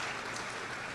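Audience applause at the opening ceremony of a Caribbean broadcasting annual general assembly, a dense steady wash of clapping throughout, moderately loud with no talk over it.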